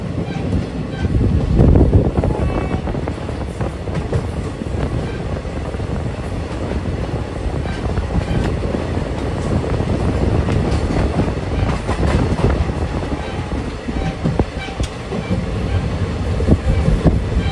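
A passenger train travels on rails near Ambika Kalna with a steady, loud rumble and rattle of the carriages. The noise runs on without a break, and a few faint rhythmic clacks come through the roar.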